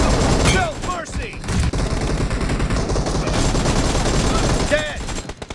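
PUBG Mobile gunfire rattles in rapid automatic bursts, loud and dense, with in-game voice callouts over the shooting.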